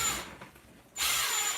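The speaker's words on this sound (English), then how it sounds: "I keep noticing screws escaping from the rear tail brace, so I'm putting longer ones in." A power driver runs longer screws into the rear tail brace of an RC car, giving two close whirring bursts with a quieter pause between them.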